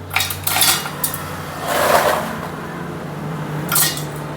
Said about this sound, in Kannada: ಮಿಕ್ಸಿ ಜಾರ್ಗೆ ಹಾಕ್ತಾಯಿದ್ದೀನಿ